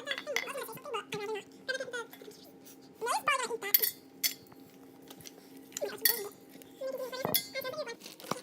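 A spoon clinks and scrapes against a bowl while stirring cookie dough, intermittent close metallic taps, with people talking and giggling throughout.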